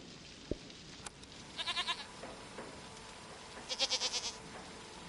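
A goat bleats twice in the video game Season: A Letter to the Future, each call a short wavering cry over a quiet outdoor ambience with a faint click or two.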